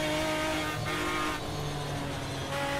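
A race car in the Automobilista 2 racing game drones loudly with a steady, tonal engine whine, steady throughout, with brief tyre scrubbing under it.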